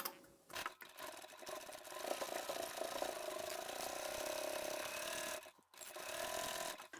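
A sewing machine stitches the side of a handbag with multiple zippers and pockets, a steady close whirring run that stops briefly and starts again, with no talking.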